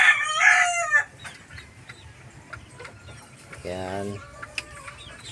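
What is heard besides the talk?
Dirty pit gamefowl rooster crowing and clucking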